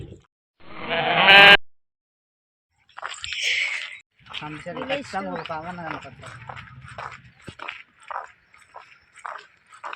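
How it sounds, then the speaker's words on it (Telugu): Goats bleating in a village, several wavering bleats close by, interspersed with people talking nearby and a sharp electronic burst at the start. "ఇక్కడ మేకలు ఉన్నాయి ఫ్రెండ్స్"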